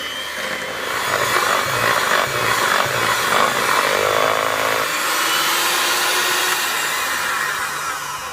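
An electric mixer whisks cake batter with a loud, steady motorized whir that rises after the first second and holds at an even pitch, close and uninterrupted, with no talk.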